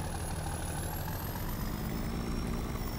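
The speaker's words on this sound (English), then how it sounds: "this engine doesn't sound very good." A rough-running Lodestar truck engine idles with a steady, dense low drone and a faint high whine above it, continuous and unchanging, with no voices.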